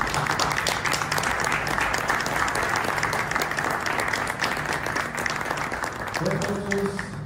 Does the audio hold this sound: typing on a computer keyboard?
no